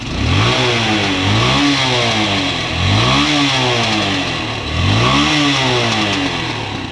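A Hero Honda Karizma R motorcycle engine revs up repeatedly, close and loud, with rising blips every second or so over a continuous throaty idle.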